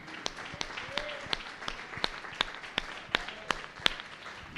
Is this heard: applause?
yes